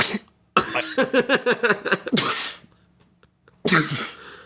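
A voice imitates a coughing fit: a burst of rapid, harsh coughs in quick succession, a rasping gasp, then a pause and another cough.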